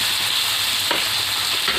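Onions sizzle in oil left over from frying eggs, a dense steady hiss with small crackles and a brief stir partway through, close and alone.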